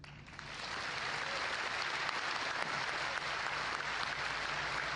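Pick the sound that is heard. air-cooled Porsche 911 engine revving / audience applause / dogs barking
audience applause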